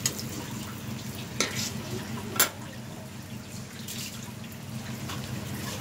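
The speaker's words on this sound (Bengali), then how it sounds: "এটাকে ভালো করে নেড়ে নিতে হবে মশলার সাথে" Boiled taro greens being stirred with spices in a wok, giving a soft, wet scraping and sizzling with a few sharp clinks of the spatula against the pan, faint and close.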